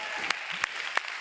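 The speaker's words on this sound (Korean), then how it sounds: "우리 부장님들이 식당에서 들릴 수 있을 정도로 감사의 박수 함성으로 함께 하겠습니다" A church congregation at a Sunday youth worship service breaks into applause in thanks, several sharp claps standing out over a steady wash of clapping at moderate volume.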